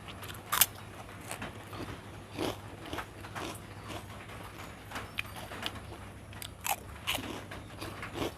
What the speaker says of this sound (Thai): กรอบดีฮะไข่หมู